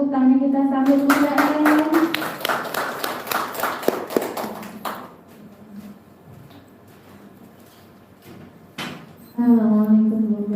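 Brief rhythmic hand clapping from a seminar audience at a parenting event, heard alongside a sustained voice at the start, then dying away into quiet room noise before a voice returns.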